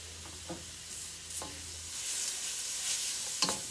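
Egg roll filling sizzles quietly in a pan while being stirred, a soft steady fry with a few faint scraping strokes, close and without voices.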